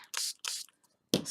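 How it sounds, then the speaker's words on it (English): A trigger spray bottle mists paper flower petals in three quick bursts, each a crisp hissing spritz with brief pauses between, close and clear with no talking. "spray it, make it pliable"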